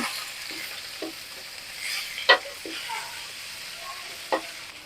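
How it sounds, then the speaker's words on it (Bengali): Fish sizzles softly in a frying pan while a spoon stirs it, with occasional distinct scrapes and taps against the pan over a steady low hiss; nearby and alone, no voices. "মাছ দিয়ে দিয়েছি এখন তো নাড়িয়ে দেবো"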